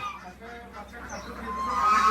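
Ducklings call close by in a short burst of fowl-like peeping and honking, rising in loudness toward the end, with faint voices underneath.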